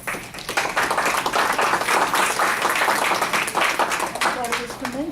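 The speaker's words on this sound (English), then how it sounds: "Let's give them another round of applause." Sustained applause from an audience at a board of directors meeting, dense clapping throughout at steady loudness, with a voice briefly emerging near the end.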